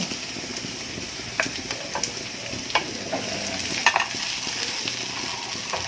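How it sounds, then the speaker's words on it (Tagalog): Squid balls fry in a pan with a continuous bright sizzle, broken by occasional scrapes and clinks as they are stirred. "ilagay na rin natin yung squid ball"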